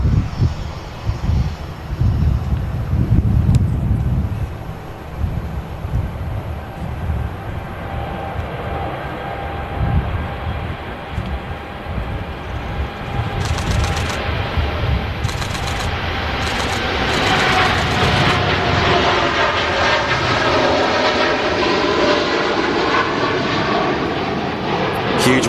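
TUI Boeing Dreamliner jet taking off from runway 23 right at Manchester Airport, a sustained engine roar that builds slowly and steadily over its takeoff roll, with a whining tone sweeping through the later part.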